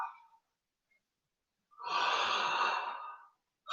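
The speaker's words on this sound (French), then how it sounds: "Expire, on lâche tout." A long audible exhale during a qigong exercise, one steady close breath of about a second and a half, set between quiet pauses, with no talking.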